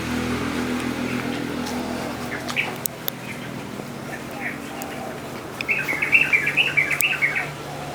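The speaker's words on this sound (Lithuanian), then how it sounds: "Paukščiukai čiulba." Small birds chirp in a shaded garden at a Bali villa, with scattered faint calls at first and then a brighter, closer burst of rapid twittering near the end over a low hum of distant traffic.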